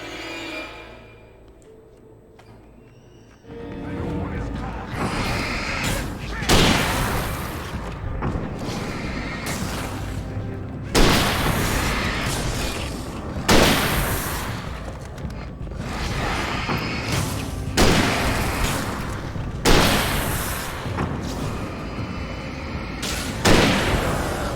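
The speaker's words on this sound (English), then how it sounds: "Man, that hunting rifle is so good." Repeated hunting rifle shots from the video game Alan Wake, loud booming reports spaced a few seconds apart over a busy, noisy game soundscape.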